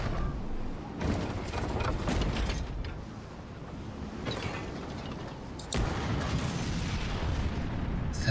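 Ship cannons fire in the pirate video game Skull & Bones, with heavy booming shots at intervals over creaking wooden ship mechanisms and a low rumbling background.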